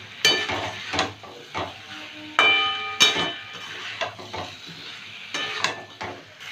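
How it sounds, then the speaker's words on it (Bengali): Pointed gourd, potato and Gobindobhog rice sautéed together in a pan, with irregular close metallic stirring clanks and scrapes over a light sizzle, no voices. "সব একসঙ্গে ভালো করে কষিয়ে নেব।"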